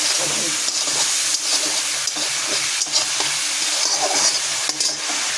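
Green chilli paste and salt fry steadily in a hot pan, a continuous loud sizzle and hiss broken by soft periodic stirring scrapes from a spoon.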